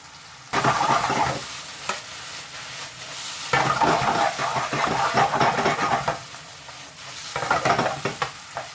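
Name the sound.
onions frying in a pan with spices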